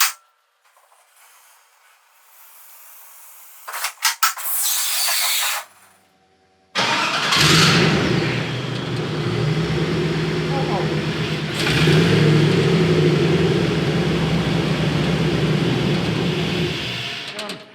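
An LS V8 with a new exhaust cranks over after a quiet pause, fires up and settles into a loud, low, rumbly idle with a few revs, close by and continuing to the end.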